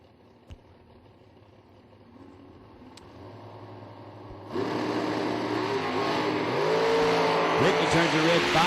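Drag racing cars, including a Camaro, launching down the strip at The Million 2016: engine roar builds from a faint rumble and then surges loudly with revving and tire noise, with a commentator talking over it.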